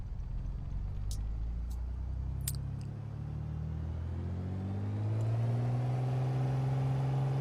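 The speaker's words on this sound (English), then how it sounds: "Smoothly applying the power, and you've got the turbocharger kicking in" A simulated Piper PA-28R-201T Turbo Arrow engine in a flight simulator, with a low steady rumble that builds as power is applied and the turbocharger comes in, the pitch rising smoothly toward the end, heard alone with no talk.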